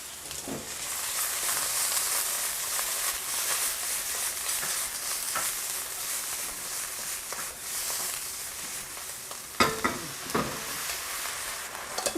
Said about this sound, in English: my mom is also making us and her some stir-fried Chinese spinach. That's happening in the wok right there.